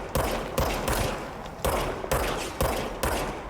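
Repeated bursts of gunfire from the video game Control, several loud volleys in quick succession with short gaps between them, close and dominant with no talking over them.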